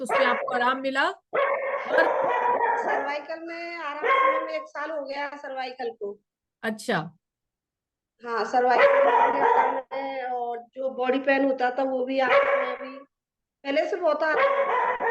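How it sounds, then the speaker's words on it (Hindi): A pet dog barks in short bursts and yips close by at a home, under and between a conversation in Hindi, with brief pauses and a few isolated louder barks. "डॉग ही भौंक रहा है मैम"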